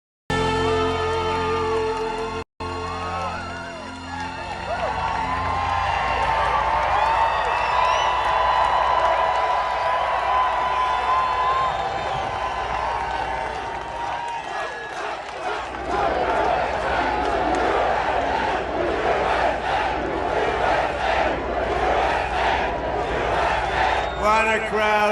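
A large crowd at a Trump rally in Iowa cheers and roars in a loud, continuous wash with whoops and applause, while an amplified voice speaks over it at the start.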